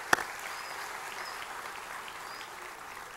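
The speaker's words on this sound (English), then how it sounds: "Let's give them a round of applause." After a single sharp clap up front, an event audience gives a soft, sustained patter of applause that stays faint and even, heard from a distance.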